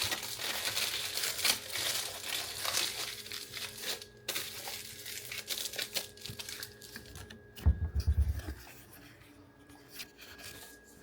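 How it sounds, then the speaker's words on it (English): Aluminum foil crinkles and crumples close by as sweet potatoes are wrapped in it. The rustling keeps on in uneven bursts, with a heavier thump partway through and no voices. "And then I wrap it in aluminum foil."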